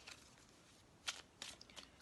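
A deck of Gypsy oracle cards shuffled by hand in a quiet room, a few short soft riffling bursts close by, no talk.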